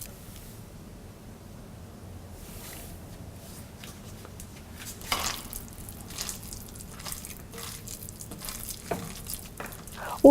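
Gram flour batter for onion fritters being stirred and mixed by hand, soft wet squishing and sloshing sounds, faint and steady, growing slightly louder later on.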